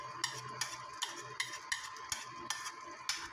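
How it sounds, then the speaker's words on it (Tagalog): A spatula stirs scrambled egg into sliced eggplant in a pan, scraping in a steady rhythm of about eight clicks with a soft sizzle underneath, heard close and fairly quiet. "ilagay na natin yung scrambled egg natin"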